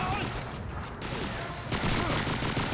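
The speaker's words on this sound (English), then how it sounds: "So you're seeing the PPSH-41 firing" A PPSh-41 submachine gun in Call of Duty 2 fires in a dense, steady automatic stream. The rattling burst is loud and close and carries on through the whole stretch, with a voice speaking over it.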